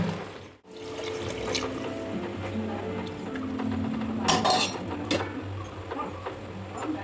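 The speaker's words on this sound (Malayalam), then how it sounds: "നമുക്ക് നല്ലതായിട്ട് അരി ഇട്ടിട്ട് നല്ലതായിട്ട് മിക്സ് ചെയ്യാം" Two glasses of rice tipped into four glasses of water in a pot and stirred for pulao, a steady watery swishing with clinks of a utensil against the pot, close up and continuous.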